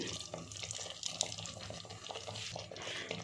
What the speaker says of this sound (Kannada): ಇನ್ನು ಸ್ವಲ್ಪ ನೀರು ಹಾಕ್ತಾ ಇದ್ದೀನಿ